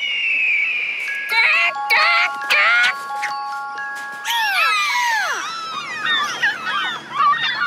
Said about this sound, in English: Here's what a hawk sounds like.